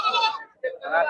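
A goat bleats twice in quick succession, close and loud, at the Karad goat market in Satara district, with a brief pause between the wavering cries.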